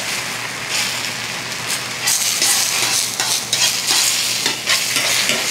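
An egg cooks in a little oil in iron cookware, a loud, close, crackling sizzle with spitting bursts and scraping stirs that intensify partway through, no voices over it.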